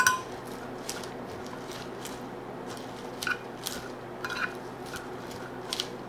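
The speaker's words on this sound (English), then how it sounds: "And give that a stir." Rice salad with arugula is stirred in a bowl, giving soft, faint clinks and scrapes of a utensil at irregular intervals over a low steady background hum.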